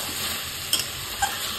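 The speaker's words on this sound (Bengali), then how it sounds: "কষতে থাকবো।" Chicken being stir-fried for kosha in a pan after a splash of water, a steady close sizzle with two brief scraping clicks of a spatula stirring.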